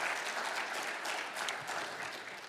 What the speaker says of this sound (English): Big round of applause for our behind-the-scenes sponsors.